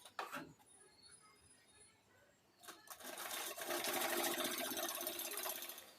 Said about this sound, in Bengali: এইভাবে পুরো রাউন্ডটা আমি সেলাই করে নিব।